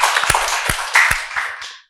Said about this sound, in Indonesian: Tepuk tangan lagi untuk beliau